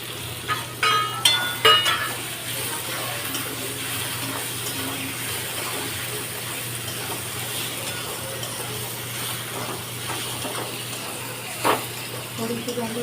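Okra (bhindi) frying and being stirred into a fried spice masala with Maggi masala, a steady sizzle with scraping stirs and a few clanks near the start, a voice speaking over it.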